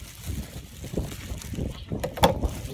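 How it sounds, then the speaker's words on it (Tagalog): Gusts of wind rumble against the microphone in uneven bursts, with a few brief sharp clicks and knocks near the end. "Lakas ng hangin"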